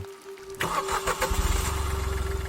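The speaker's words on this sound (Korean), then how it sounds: "자동차 시동이 걸리는 소리가 들렸고" A car engine starts behind a building next to a bathhouse entrance: a short cranking burst, then a steady, moderately distant idle that pulses evenly to the end, with a faint steady hum underneath.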